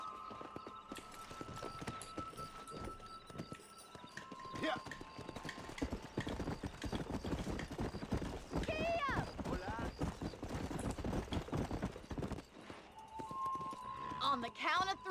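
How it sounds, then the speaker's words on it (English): Horse hooves clip-clop in a steady trot from a mount in the Western game Red Dead Redemption, close and continuous, with a brief whinny and short spoken remarks over the hoofbeats. "Mount your horse."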